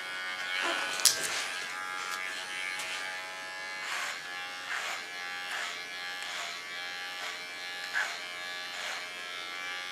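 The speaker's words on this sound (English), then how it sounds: "Using my clipper as a comb." An electric hair clipper run through hair like a comb gives a close, steady buzzing drone, rising and falling in repeated strokes roughly every second, with a brief sharp bump near the start.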